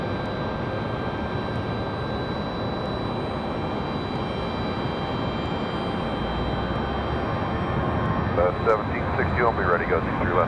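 A Spirit Airlines jet departs runway 23 left at Raleigh-Durham airport, a broad, steady engine roar heard from a distance that swells toward the end, with a radio voice coming in near the close.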